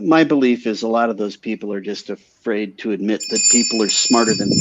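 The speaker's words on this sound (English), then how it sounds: "Sorry, that's my doorbell." A doorbell rings during talk, a bright sustained electronic tone with steady overtones entering partway through and continuing under the speaking voice.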